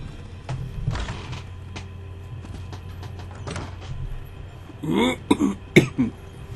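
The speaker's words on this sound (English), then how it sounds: "Wish I could get over this cough already." A few harsh coughs burst out near the end, after several seconds of quiet background clicks and low rumble.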